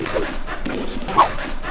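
A dog standing still while tiny minifigures are set on its back lets out soft whimpers and small yips at close range, with no one talking.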